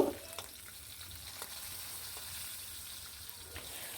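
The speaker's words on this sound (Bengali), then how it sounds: "ওই তেলেই বাকি মাছগুলোও দিয়ে দেব" Steady crackling sizzle of rohu fish frying in hot oil, a continuous fizzing hiss with occasional faint pops and scrapes, no voices.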